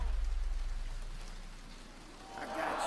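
Rain falls steadily outdoors, a continuous close hiss of drops on surfaces, with a low rumble at the start and a brief brighter swell near the end.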